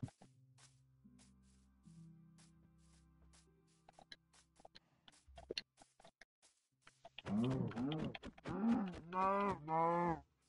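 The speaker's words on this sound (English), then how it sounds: "Ooh, it's a cow." A Minecraft cow lowing in a game, a few loud, close moos in quick succession near the end, following quieter game tones and clicks.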